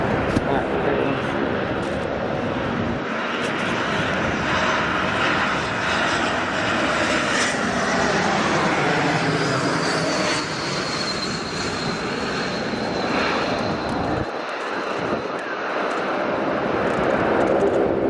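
A fixed-wing airliner approaches to land on runway 16 Right at Sydney Airport, its engines a steady, broad roar running loudly throughout with a faint rising whine, while someone speaks over it.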